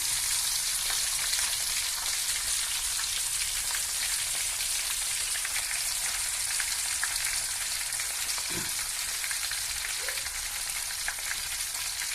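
Fresh green herbs sizzle and froth in hot oil as a herbal oil is prepared, giving a steady, dense crackling hiss that goes on without a break and with no voices.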